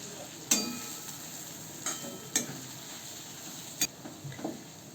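Spices (turmeric, red chilli powder, coriander powder, pulao masala and salt) stirred in a cooking pan for chole paneer pulao: a low, steady sizzle with several sharp scraping clicks of a spoon against the pan, scattered and fairly quiet.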